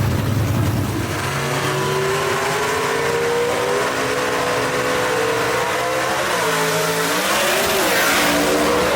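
B/Gas gasser drag race cars launch at Kil-Kare Dragway, a loud, sustained engine roar with rising revs and a gear change near the end, heard from trackside without talk.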